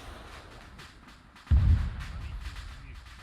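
A single heavy gunshot in Arma, fired at an oil rig, booms out with a deep low thump and a trailing rumble that fades slowly against faint background noise.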